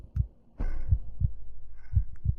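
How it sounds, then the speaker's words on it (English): Heavy, slow heartbeat of a child character in a horror ARG video game: a series of deep thumps, some in close pairs, rising over a low droning hum that swells partway through. "you can hear his heartbeat."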